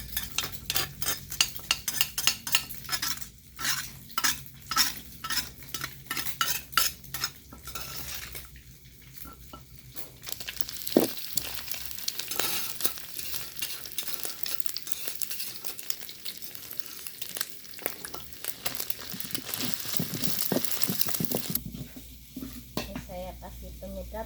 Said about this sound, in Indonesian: kita orak-arik telurnya